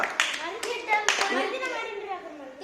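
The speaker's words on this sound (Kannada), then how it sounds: "ಇವಂಗೂ ಚಪ್ಪಾಳೆ ಹೊಡ್ರಿಪ್ಪ" Children clap together in a short burst of fast, close applause while voices talk over it.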